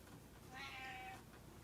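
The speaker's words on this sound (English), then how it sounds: "This is my cat Minion." A pet cat gives a single soft meow in a quiet home during Christmas preparations, faint and brief over steady background noise.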